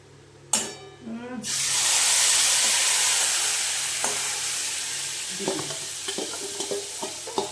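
Spice paste of turmeric and chili stirred and fried in a pan for a chunu-fish spicy fry, a sharp loud sizzle bursting in then settling into steady frying hiss with a few scraping stirs.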